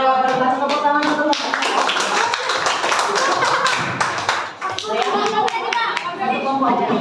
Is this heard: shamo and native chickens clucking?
no